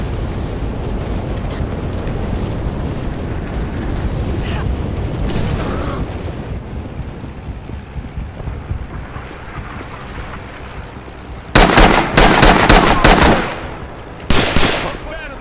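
Wartime combat in Rising Storm / Red Orchestra 2 during the Iwo Jima invasion, with steady rumbling explosions and distant gunfire. Loud, close bursts of machine gun fire come near the end, under a player's voice.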